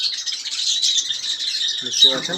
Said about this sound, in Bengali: সানকনুর দেখতে পাচ্ছেন সানকনুর মোট কত পেয়ার রয়েছে আপনার কাছে